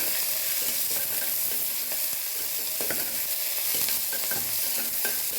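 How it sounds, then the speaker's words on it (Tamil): Onions with curry leaves and green chilli sautéing in a pan, a continuous soft sizzle with occasional spatula scrapes and stirring taps, steady and close with no speech. "வெங்காயம் நல்லா வதங்கிடுச்சு."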